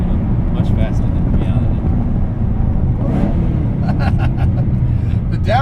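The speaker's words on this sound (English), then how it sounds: "The downshifts sound mean as hell because you get that supercharger whoop, and then you get you get both." A modified, supercharged 2007 Saleen S281 Extreme is driven, its engine a constant loud, deep rumble from inside the car, with a person talking over it.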